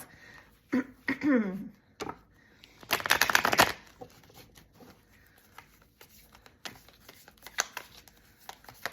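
Tarot cards shuffled by hand during a reading, a loud riffling burst in the middle with softer card taps and handling around it, close up with no talking.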